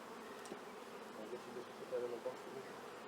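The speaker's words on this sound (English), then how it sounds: "So we're satisfied this is a box of queenless bees." Honey bees buzzing in a queenless hive box during tropical beekeeping, a faint, low, continuous hum with occasional louder buzzes from individual bees close by.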